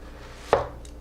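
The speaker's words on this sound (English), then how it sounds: "I'm going to position my blade right over on the side of it, and I'm going to push straight down to produce 1/3 of my onion." A single sharp knife chop cuts straight down through an onion on a cutting board, one crisp close thud in an otherwise quiet room.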